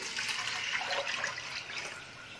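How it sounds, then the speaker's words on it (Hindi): About a litre of water poured into a cooking pot for dill rice, a steady splashing stream that runs on alone for a couple of seconds. "और इसमें पहले 1 लीटर पानी ही डाल रही हूँ।"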